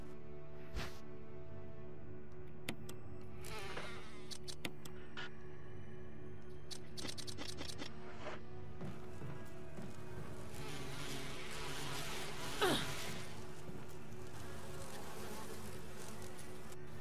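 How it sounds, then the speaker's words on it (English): Insect buzzing from bees in the Resident Evil Remake video game, a steady droning hum running throughout amid game sounds and clicks, with a louder swell near the end. "there's bees!"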